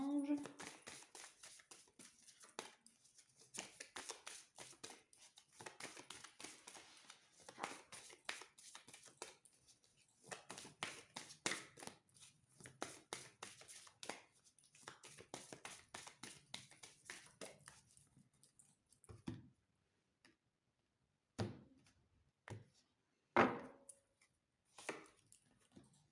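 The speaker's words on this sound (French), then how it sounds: "Je ne vais pas vous épargner le bruit des cartes" A deck of oracle cards is shuffled by hand nearby as a long run of quick, papery riffling and tapping that stops now and then. The later part brings a few separate taps and shuffles.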